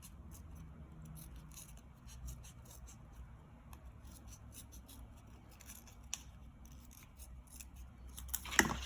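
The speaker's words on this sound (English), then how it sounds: "So the paper is folded. I'm going to cut" Scissors snip through folded paper to cut out a circle, a series of soft, close crisp cuts and rustles in an irregular rhythm, growing louder near the end, with no talking.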